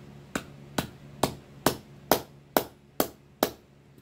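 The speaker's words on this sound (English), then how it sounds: "I'm going to hammer this up, tap, tap, tap, tap, tap, tap, tap, to get it really close" A hand hammer taps a spoon ring into shape with eight sharp, evenly spaced metallic strikes, close and clear, each with a short ringing decay and no talking.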